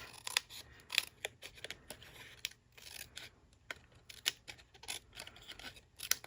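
Scissors snip and trim card paper in a quick series of close, crisp cuts, irregular in rhythm with brief pauses between strokes, quiet and alone.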